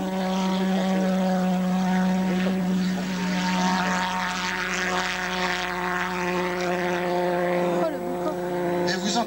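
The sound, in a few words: pulsejet aircraft touch and go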